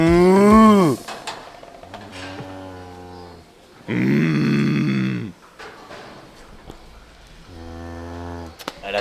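Cows moo in long, deep calls, three distinct bellows spaced apart with quieter grunts and rustling between them, fairly close.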